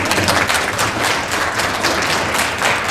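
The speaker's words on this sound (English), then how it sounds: "could we get a round of applause for my aunties in the room?" Loud, continuous applause from a roomful of people at a personal speech, thick, even clapping sustained for a few seconds without pause or talk.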